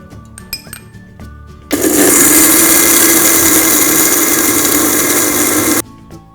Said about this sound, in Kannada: ಈ ಮಿಶ್ರಣವನ್ನ ಚೆನ್ನಾಗಿ ಹುರಿದಾಗಿದೆ ಈಗ ಇದನ್ನ ರುಬ್ಕೊಳ್ಳೋಣ